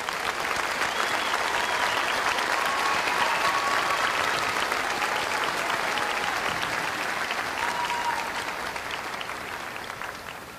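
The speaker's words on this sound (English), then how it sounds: "Please, let's give our graduates a round of applause." Sustained audience applause for graduates at a university commencement ceremony, a dense crowd clapping steadily for about ten seconds and tapering slightly at the end, with faint whistles or cheers mixed in.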